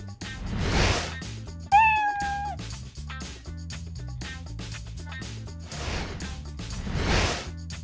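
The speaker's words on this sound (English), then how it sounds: "a beautiful 1-year-old medium-haired cat with gorgeous, gorgeous gold eyes" A one-year-old medium-haired cat gives a single clear meow, close and distinct, while soft music plays in the background.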